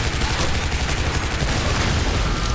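Heavy-weapon fire in the Shadow Warrior game, a dense, loud, continuous barrage of shots and blasts that fills the whole short burst.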